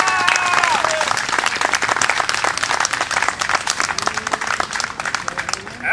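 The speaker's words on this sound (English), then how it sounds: "Let's have a big round of applause for Patrick Murfin." A crowd gathered at an outdoor gazebo in Woodstock, McHenry County, for a Labor Day history talk breaks into loud, dense applause for about six seconds, with a few cheers at the start.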